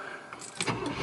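A 1978 Cadillac Eldorado Biarritz barn find firing up, a brief starter crank rising into a rough, swelling engine catch, close and fairly loud.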